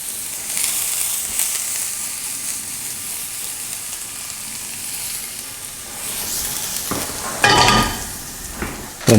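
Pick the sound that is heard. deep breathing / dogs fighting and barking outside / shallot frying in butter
shallot frying in butter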